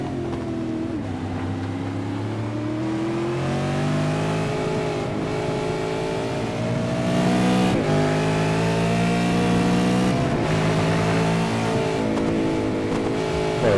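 V8 Supercar racing onboard around Phillip Island, its engine loud and close throughout, revving high and dropping briefly on gear changes and corner braking before pulling hard again.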